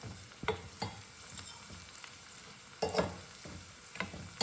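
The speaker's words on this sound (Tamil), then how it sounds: "போட்டு உடனே எடுத்துடணும், டக்குன்னு பொரிஞ்சிரும்" Onion karivadagam, a Chettinad sun-dried onion and lentil ball, drops into hot oil at medium heat and fries briefly, giving soft bursts of sizzle and stirring clatter at intervals over a steady low crackle.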